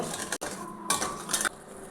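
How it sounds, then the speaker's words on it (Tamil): A metal spoon stirring sugar into water clinks and scrapes against the inside of a vessel in quick, uneven strokes, with short bursts of louder scraping and brief pauses. "அந்த சர்க்கரையை கரைச்சி விட்டுக்கலாங்க."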